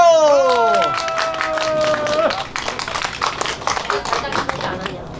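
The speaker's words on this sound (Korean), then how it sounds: "다 같이 아르미 포마님을 힘찬 박수로 맞이해 주세요" At a live Korean traditional music show, an audience claps to welcome a performer, scattered then brisk applause following a fading sung or played note, with voices mixed in.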